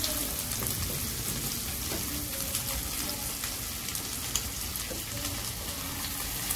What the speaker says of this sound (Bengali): ডিম কিন্তু ভাজতে বেশিক্ষণ লাগে না।